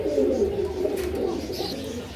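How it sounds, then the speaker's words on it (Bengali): Large pigeons cooing in a loft, soft low throaty coos close by, continuous and gentle with faint background noise. "বিগ সাইজের কবুতর ভাই"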